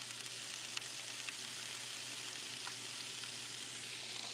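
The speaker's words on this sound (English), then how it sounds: "we drop some more of that cauliflower in there" Cauliflower frying in a pan gives a steady, soft sizzle and crackle throughout, with a few faint pops and no voices.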